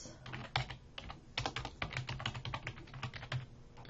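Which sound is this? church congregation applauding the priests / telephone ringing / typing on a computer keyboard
typing on a computer keyboard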